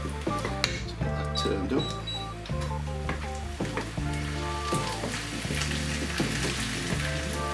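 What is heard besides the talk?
beef frying as black bean sauce is added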